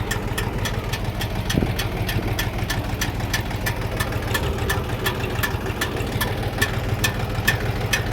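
Kentavr 244 tractor engine idling steadily in hot weather, a continuous mid-low rumble with a regular ticking knock running throughout at moderate, even loudness.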